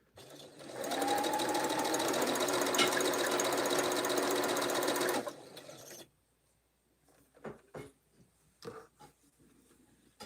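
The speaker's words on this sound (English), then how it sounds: "you sew the top 3 pieces together as one unit" A sewing machine stitches quilt block pieces in one steady, dense whirring run of about four seconds, then stops, leaving faint handling clicks and rustles in a quiet room.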